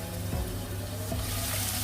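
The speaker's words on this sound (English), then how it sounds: "start with the onions because the onions need to fry properly" Onions frying in a pan give a low, steady sizzle close by, with a couple of soft stirring scrapes and no talking.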